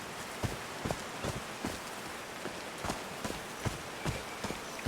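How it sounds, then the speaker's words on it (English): Rain patters steadily in the video game Call of the Sea, a dense hiss broken by irregular louder drips and taps close by. "These drops of rain are so refreshing."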